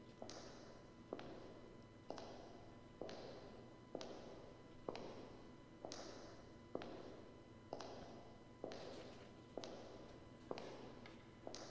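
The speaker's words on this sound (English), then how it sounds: "I'm hearing the footstep coming back" Footsteps of an approaching enemy in the horror game The Coma: Recut, a steady run of about a dozen soft, evenly spaced thuds over a constant low hum, with no talk.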